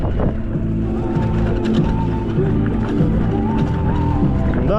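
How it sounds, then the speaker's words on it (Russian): Side wind buffets the microphone on an electric bike riding slowly along narrow mountain paths near Ordzho in Crimea in winter, a steady loud rushing roar with a low droning hum running through the whole stretch. "Еще ветер боковой."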